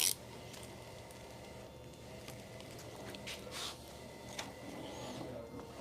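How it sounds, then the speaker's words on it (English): A printer hums and whirs steadily in the background of a quiet room, with a few faint clicks and mechanical shifts over several seconds. "You can actually hear the printer right now working in the background"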